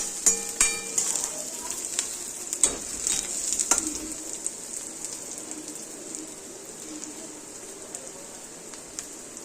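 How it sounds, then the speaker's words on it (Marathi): Chopped onion sizzles and crackles steadily in a pan while being roasted golden for a leftover-chapati upma, with a few sharp scraping clicks of stirring early on, then a softer continuous hiss. "इथे आपला कांदा भाजत आलेला आहे"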